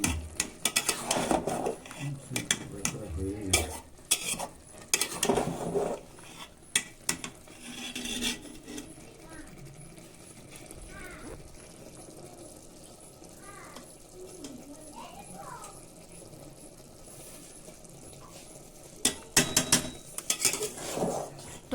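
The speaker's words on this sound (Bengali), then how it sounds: "মাঝে মাঝে একটু নাড়িয়ে দেখে নিতে হবে, নাহলে জলটা শুকিয়ে গেলে নিচে ধরে যাবে চালটা" Pulao rice is stirred in a cooking pot, with close metallic scraping and clanking of a utensil against the pot in bursts, then quieter stretches of faint pot noise, and some talking in between.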